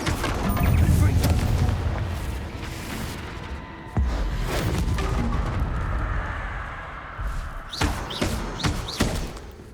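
Confringo explosive spell cast repeatedly in Hogwarts Legacy on PS5, a string of booming blasts and thuds: a heavy burst early, another sharp hit near the middle, then a quick cluster of crackling impacts toward the end, with other spell effects mixed in.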